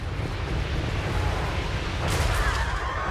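Dense, continuous rattling gunfire and booming blasts from a Total War: Warhammer 3 battle fill the soundscape, a loud and unbroken roar of combat.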